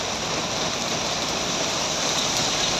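Steady, dense rain hisses continuously, loud and close, at a bus stop, with no voices over it.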